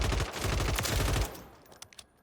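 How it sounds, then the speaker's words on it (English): Ram 7 assault rifle fired in rapid automatic bursts on a Warzone 3 firing range, loud and close, a dense rattling string of shots that cuts off, followed by a few scattered fainter reports. "So this is what it looks like in the firing range here. Ram 7, very easy to control recoil."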